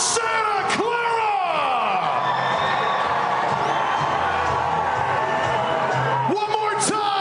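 A large outdoor crowd at a New England Patriots send-off rally roars and cheers steadily throughout, with whoops and whistles rising above the wash of noise and a few sharp bangs near the start and the end.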